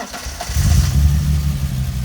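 A BMW E30 325i engine fires up from a cold start in a parking lot, a brief cranking and catch followed by a low, steady rumbling idle that stays loud and close.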